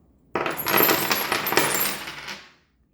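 Coins dropped and tossed onto a surface for coin divination, a single loud burst of clinking metal that rings briefly and then fades away.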